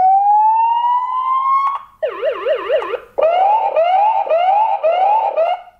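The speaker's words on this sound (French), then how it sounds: "vous allez choisir par exemple le son de l'alarme" A Xiaomi Gateway V2 alarm set to full volume blares alone: a rising siren tone, then a fast warbling wail, then a string of repeated rising whoops, loud and close.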